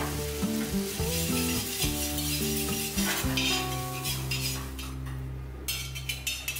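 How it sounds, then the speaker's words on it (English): Butter and bhaji masala sizzling on a hot tawa, a steady close frying hiss partly masked by loud background music, with no voices. "Now on the tawa, I'll add some butter and add 1 teaspoon bhaji masala to it."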